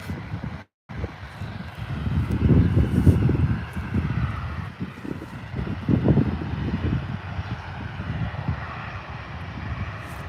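Jet aircraft at Adelaide Airport, a loud, low engine rumble that swells and eases amid wind buffeting on the microphone, with no talking.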